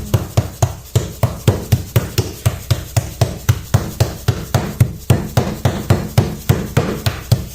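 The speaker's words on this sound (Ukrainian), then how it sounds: "Потім беремо молоточок і трішечки відбиваємо." Steady, rapid pounding of a meat mallet lightly tenderizing meat for a meat roll, dull thuds repeating about three times a second, close and evenly paced throughout.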